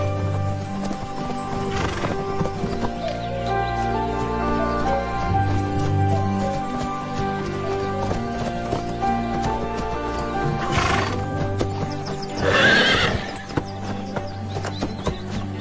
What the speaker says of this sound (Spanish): Mejor pregúntale al caballo. No parece muy contento.